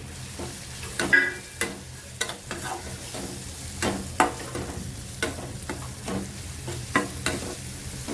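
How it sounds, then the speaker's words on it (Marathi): Garam masala and homemade red chili powder sautéed in a pan for a sprouted urad dish, with repeated scraping stirs of a spoon over a steady low sizzle, close and moderately loud, no talking. "गरम मसाला घालून घ्यायचं छान परतून घेऊया"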